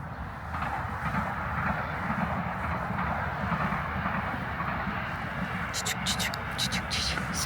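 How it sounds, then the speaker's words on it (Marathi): A Sprinter train pulls into a station in Utrecht, its steady rumbling roar filling the air with a few brief high squeaks near the end, while people talk over it. "ओ ट्रेन येते इथे."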